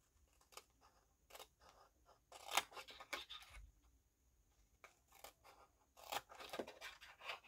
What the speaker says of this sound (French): Il faut que je recoupe, je vais couper n'importe comment.